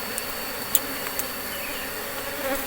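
Apis cerana honey bees buzz steadily and close by during a honey harvest, a continuous insect drone with a few brief louder wingbeat passes and no voices.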